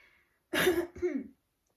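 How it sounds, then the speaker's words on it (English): One loud, close throat clearing: a harsh rasp followed by a shorter second grunt, then silence. "I need to clear my throat."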